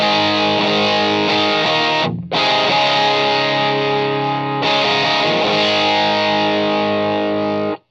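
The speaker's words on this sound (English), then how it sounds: "just G2, that's the harder clipping or the distortion mode" Heavily distorted electric guitar through a JHS Kilt pedal in its hard-clipping distortion mode, thick compressed chords ringing out, a short break early on, loud with no talking.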